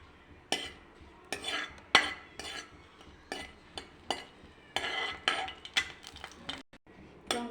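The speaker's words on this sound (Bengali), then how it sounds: "এদিকে 2টো শুকনো লঙ্কা ভেজে নিচ্ছি" Two dried red chillies fried in a pan, heard as a run of sharp metal spoon scrapes and clinks against the pan, repeated in uneven bursts, close and fairly loud.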